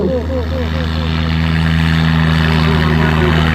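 Tractor engine running steadily at a village trolley-pulling competition in Punjab, a loud continuous idling drone with a strong low hum and a few quick rising revs early on.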